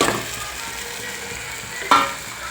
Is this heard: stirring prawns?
yes